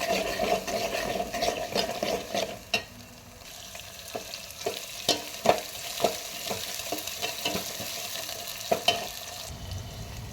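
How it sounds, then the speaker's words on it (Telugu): Thinly sliced onions fry in a pan after a tempering, with a steady sizzle and repeated close scraping and stirring clicks throughout, no talking. "మనం సన్నగా కట్ చేసుకున్న ఉల్లిపాయలు వేసుకొని ఒకసారి మనం కలబెట్టుకోవాలి."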